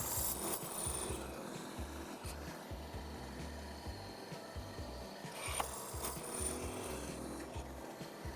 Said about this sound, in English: I'm going to use the drill press to create a series of overlapping square holes